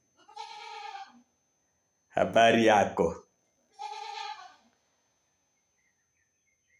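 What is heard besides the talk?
goat bleating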